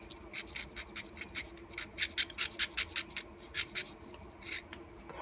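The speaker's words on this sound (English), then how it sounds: "Let's try and scrape the underside of that." Rhythmic scraping of a tool against a rusty Coke bottle knife during a cleanup, a series of short, raspy strokes repeated steadily and close, with no talking.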